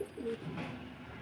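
A male Andhra (Madrasi) pigeon, kept alone in a cage, gives a short burst of low, throaty cooing, close and fairly soft over faint background hiss.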